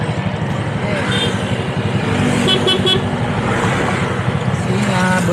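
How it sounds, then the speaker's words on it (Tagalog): Car horns toot in short bursts over dense street traffic near a cafe in a busy Philippine town, with fast vehicles and motorbike taxis passing close and loud road noise throughout. "Busina."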